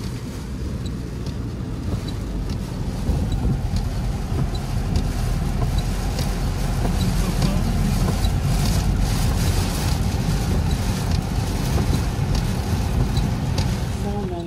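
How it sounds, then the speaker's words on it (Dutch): Strong wind buffets the microphone outdoors in heavy rain in Suriname, a constant low roaring rumble with gusty swells throughout. "En het gaat weer hard regenen. Je zei dat we mooi weer zouden hebben deze week. De wind waait ook heel hard."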